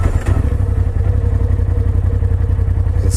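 A 2018 Polaris RZR Turbo Dynamix UTV engine runs at a steady idle, its low throbbing rumble loud and close throughout without any talk.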